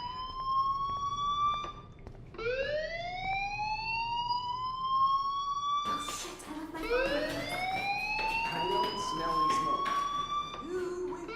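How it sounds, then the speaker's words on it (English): A fire alarm in the video game Life is Strange 2 wails in rising, repeating siren sweeps, loud and continuous, restarting several times over steady background noise. "Hey, do you hear that fire alarm?"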